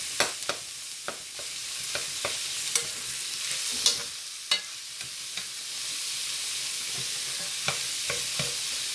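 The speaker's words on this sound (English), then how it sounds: "Break the hamburger meat all up." Ground hamburger meat fries with a steady broadband sizzle in a pan while a utensil scrapes and breaks it up, giving sharp irregular clicks and knocks throughout; no talking.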